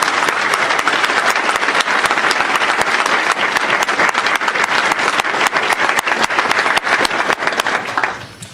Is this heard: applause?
yes